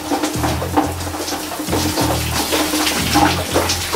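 Shower water runs in a continuous splashing hiss, close and fairly loud, with rhythmic low thumps and gurgles recurring every second or so.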